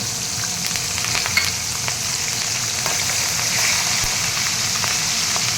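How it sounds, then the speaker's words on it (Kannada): Peanuts, urad dal, chopped green chillies and curry leaves fry in hot oil for carrot avalakki, giving a steady, close, even sizzle with faint crackles throughout and no talking. "ಶೇಂಗಾ ಮತ್ತು ಉದ್ದಿನಬೇಳೆ ಸ್ವಲ್ಪ ಫ್ರೈ ಆದಮೇಲೆ ಇದಕ್ಕೆ ಸಣ್ಣದಾಗಿ ಹೆಚ್ಕೊಂಡಿರೋ ಹಸಿಮೆಣಸಿನ್ಕಾಯಿ"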